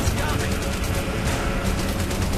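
Rapid gunfire and laser shots from the Terminator Salvation PC game pour out as a dense, continuous volley, loud and close throughout, with game noise layered beneath.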